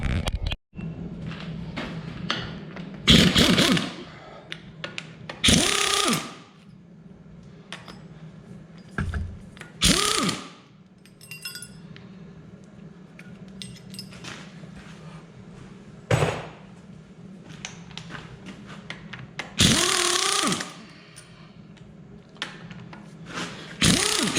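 An impact wrench hammering at bolts on a Farmall Super C engine during a rebuild, several loud rattling bursts of a few seconds each separated by quieter shop clinks and tool handling.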